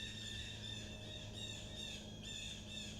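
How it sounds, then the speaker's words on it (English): Birds calling loudly near a river, repeated squawking and squealing calls layered over steady background noise, with no voices present. "Wow, those birds are loud."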